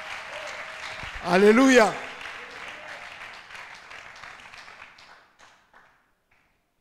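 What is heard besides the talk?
congregation applauding in church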